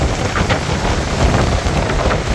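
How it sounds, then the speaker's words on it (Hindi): Steady, dense hiss of heavy rain with gusty wind buffeting the microphone, continuous and loud throughout with no voices. "बहुत तेज बारिश आ रही है यार,"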